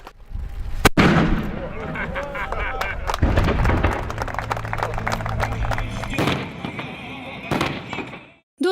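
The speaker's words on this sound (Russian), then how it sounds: "В честь переименования здесь же дали залп из старинной пушки." A sharp, loud antique cannon blast cracks out as a salvo at a street opening in Grozny, followed by rumbling booms, crowd noise and echoes outdoors, with a voice speaking over it.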